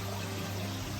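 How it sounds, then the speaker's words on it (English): Water from an aquaponics pump running steadily into a grow bed planted with onions and leeks: a continuous close pouring and trickling wash with a low pump hum beneath, with no talk. "this pump diverts some of the water into here, and the rest runs up into that bed"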